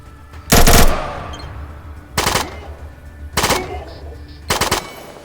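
Automatic gunfire from test-firing a weapon on a homemade range in the ATOM RPG video game, with four loud, separate bursts of rapid shots spaced about a second apart over a low background hum.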